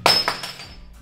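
On a Holden VK Commodore, a suspension part levered with a bar during a coilover fitting pops loose in a single sharp metallic crack, followed by a couple of fading clinks and a ringing tail.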